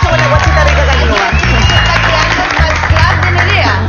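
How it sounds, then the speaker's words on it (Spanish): Audience applause at a live event, loud sustained clapping and crowd noise running throughout, with background music and voices layered under it. "¡Un aplauso!"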